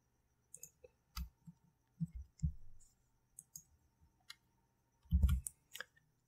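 Mouse clicks at a computer while working in Creo, several faint, sharp clicks scattered through an otherwise quiet room, with a brief cluster of dull knocks near the end.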